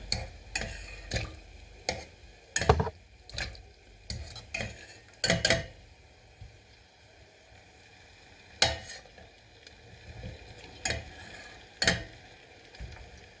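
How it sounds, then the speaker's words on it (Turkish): Boiled lamb neck meat being placed into a pot over sautéed vegetables produces irregular clinks and scrapes of a utensil against the pot, with a soft sizzle running underneath. "Şimdi etlerimizi sebzelerimizin üstüne koyuyoruz"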